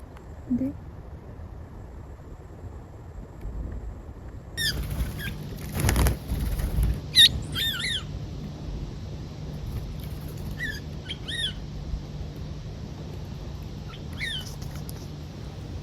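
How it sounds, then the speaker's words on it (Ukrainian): Small birds eating bread chirp and twitter in short bursts over steady outdoor background noise at Playa del Socorro, Tenerife, with occasional soft thumps and rustling nearby. "як ці співучі крихітки доїдають твій останній хліб"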